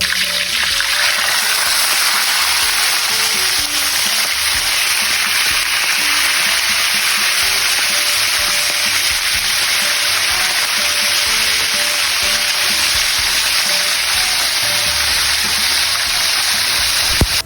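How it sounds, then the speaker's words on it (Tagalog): Tulingan tuna frying in hot oil, a loud, continuous crackling sizzle that holds steady throughout, with a faint melodic tone drifting underneath. "Mainit na ang ating mantika, pwede na natin ilagay ang ating tulingan."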